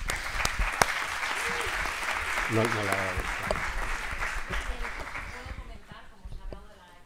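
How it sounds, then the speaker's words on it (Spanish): Audience applause at a round-table discussion on privacy fills the room, with steady clapping that stays loud for several seconds before fading out as a voice begins speaking. "también se merece este aplauso"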